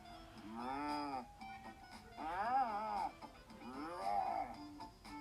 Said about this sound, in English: Do cows moo in different accents?